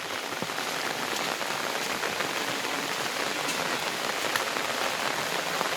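Steady rain pours down on a surface, a dense even patter with scattered louder drops throughout and no voices.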